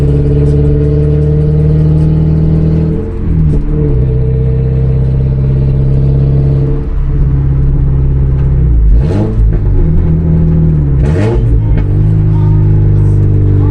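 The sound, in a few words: sports car engine revving, catless exhaust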